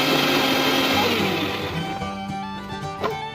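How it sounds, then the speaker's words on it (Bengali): A mixer grinder blends peeled ginger and garlic into paste, a loud, steady close-up whir that runs without pause and eases slightly in pitch and level toward the end. "এবার আদা রসুনটা মিক্সি করার পর আমি আদা রসুন মিক্সি করে নিলাম"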